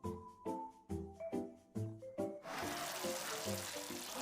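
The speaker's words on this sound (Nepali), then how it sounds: "अब यसमा थोरै पानी हालेर यसलाई मिक्स गर्छौं र छोपेर पकाउँछौं।" Water is tipped into a pan of curry on the stove, a steady pouring hiss that follows several sharp thuds and clanks of cooking utensils.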